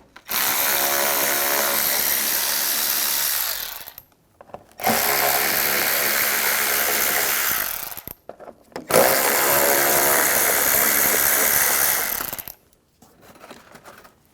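A power tool with an 8mm socket backs out screws on a 2009-2013 BMW 328i xDrive during headlight washer pump replacement, running in three long, loud, steady whirring bursts separated by short pauses.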